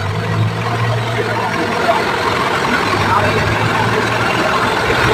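A Fuso 4M50 truck engine idles nearby with a steady low drone and a noisy compressor adding a continuous rattling hum throughout, loud and unbroken, with voices faintly mixed in.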